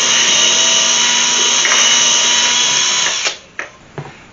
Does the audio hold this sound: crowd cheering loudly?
no